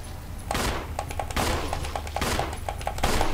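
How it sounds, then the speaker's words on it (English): Rapid gunfire in Resident Evil HD Remaster, aimed upward: several loud, sharp bursts in quick succession, each with a short booming tail, heard alone with no talk. "So I'm firing upwards because I got a higher chance of a headshot"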